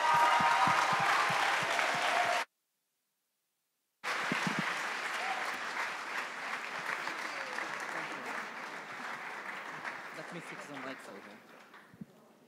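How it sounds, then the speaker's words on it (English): Audience applause at the Conference of Youth 13 closing ceremony as the UNFCCC Executive Secretary takes the stage; loud, dense clapping from a crowd, cut by a brief silence, then sustained clapping that slowly fades. "Give her an applause."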